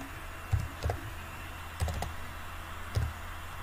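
A handful of separate keystrokes on a computer keyboard while a Google search is entered, irregular clicks spread over a few seconds, close and moderately loud against a faint background hum.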